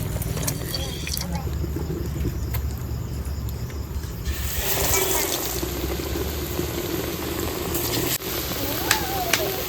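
Aloo chop potato fritters fry in hot oil with a steady crackling sizzle throughout, the bubbling brightening partway through, while voices talk over it.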